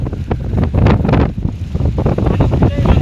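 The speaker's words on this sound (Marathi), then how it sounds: "वारा आहे भाई एक नंबर हा बघा वारा बघू शकता" Strong gusting wind at Malanggad buffets the microphone with a loud, roaring rumble, mixed with splashing water blown upward and a voice speaking over it.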